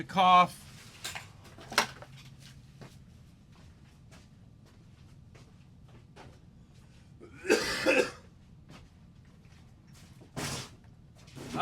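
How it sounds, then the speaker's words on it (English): Several separate coughs break out, sharp and close, spaced apart with quiet pauses between them. "Oh no, I have to cough."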